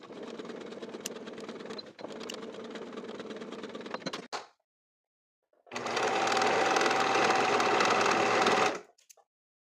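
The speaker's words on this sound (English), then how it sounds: "Then we're going to serge the same section to finish." A serger runs along a pocket seam on pleated elastic-waist pants, humming in a steady mechanical drone for about four seconds, then falling silent briefly before a second, louder run of stitching.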